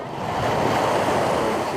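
Surf washes ashore at Honeymoon Beach, Puerto Rico, a steady, full roar of waves mixed with gusty wind noise, loud and continuous for a brief moment.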